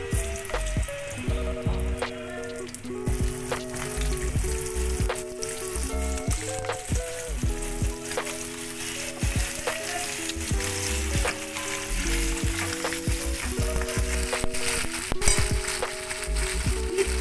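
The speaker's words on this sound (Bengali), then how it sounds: "এতে আমি বিট দিলাম, বিটরুট।" Beetroot fries in a pan with a steady, moderate sizzle that runs the whole time, heard beneath background music.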